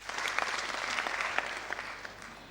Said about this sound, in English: A big clap for the Catholic University.